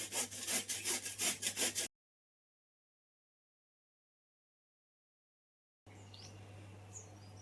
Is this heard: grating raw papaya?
yes